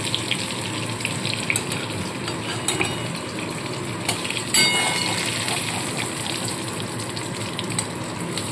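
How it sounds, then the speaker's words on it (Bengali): Eggplant slices frying in hot oil, a steady bubbling hiss with occasional clinks and a brief louder surge midway, no voices. "বেগুনগুলো কিন্তু সুন্দর করে ভেজে আমি তুলে নিচ্ছি"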